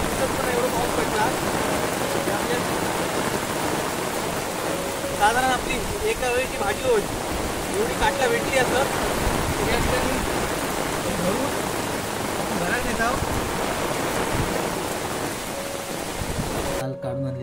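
Heavy rain pours down steadily as a broad, constant hiss that lasts throughout, while a person talks over it.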